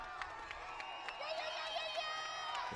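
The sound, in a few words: crowd cheering for strongman competitor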